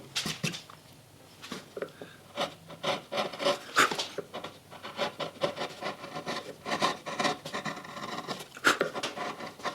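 A V-gouge undercutting wood while carving a lakeshore cabin landscape, close, steady rasping scrapes in uneven strokes at a soft level with no talking.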